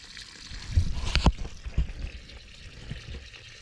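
Spring-fed water pouring from a pipe beside dry creeks in Shenandoah National Park, a close, uneven trickle and splash with a few louder gushes early on, then a softer steady run.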